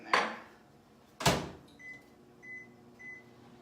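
Door of a microwave oven clunking shut twice, followed by short repeated electronic beeps as it is set to run, with a faint hum underneath.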